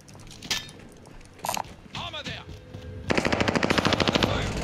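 Gunfire in the video game Call of Duty Modern Warfare, scattered shots and mechanical clatter giving way to a fast burst of automatic fire in the final second and a half, close and loud.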